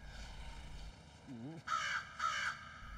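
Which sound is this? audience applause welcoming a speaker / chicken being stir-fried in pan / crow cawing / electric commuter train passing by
crow cawing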